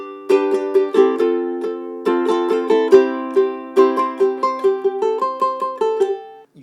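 Ukulele picking a song lick, clear single plucked notes in a steady melodic line, close and bright, played alone with no talking.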